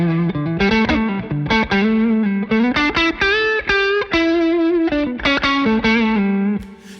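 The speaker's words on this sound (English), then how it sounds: "this is the way that the D&M drive is going to sound before we compress it" Electric guitar played through a D&M Drive overdrive pedal with the gain boosted and no compression, giving a loud, distorted run of picked notes and chords at close range.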